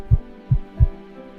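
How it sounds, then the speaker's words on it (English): Three deep, muffled heartbeat thumps in a steady slow rhythm over a low background hum, close and prominent with no voices. "Feel the rhythm of your heart beating in your chest"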